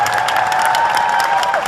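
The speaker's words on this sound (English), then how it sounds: "Round of applause for Emily Expo, everybody." Audience at the Calgary Comic Expo 2014 applauds and cheers steadily for a short burst, a dense crowd roar with a held whoop running through it, close and loud throughout.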